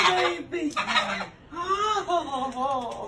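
Ducks quacking in short, nasal, honking calls close by, several bursts in quick succession with brief gaps.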